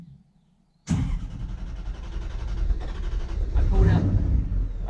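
A car engine fires up abruptly after a moment of near silence once the fuel pump has primed, then settles into a loud, close, rough running hum that builds slightly.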